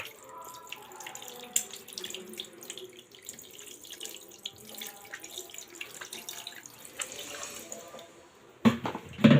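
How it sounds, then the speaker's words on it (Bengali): Water poured into a pot of seasoned beef, a faint trickling and splashing stream that runs steadily, ending with a few louder knocks of the vessel. "পানিটা দিয়ে দিলাম।"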